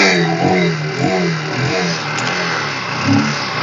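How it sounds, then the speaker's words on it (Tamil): A 2016 Honda CB Shine SP motorcycle engine self-starts and revs close by, the pitch rising and falling through several throttle blips over a steady idle. "செல்ஃப் ஸ்டார்ட் பக்காவாக இருக்குதுங்க"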